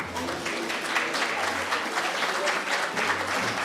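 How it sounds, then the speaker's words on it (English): An audience at a candidate forum gives the candidates a round of applause, brisk, dense clapping that stays loud and even throughout, with a voice briefly audible underneath. "let's give them a round of applause"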